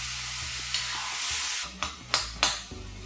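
Tomatoes sautéing in oil, with a broad, close sizzle and a few sharp spatula scrapes and knocks against the pan, with no voices.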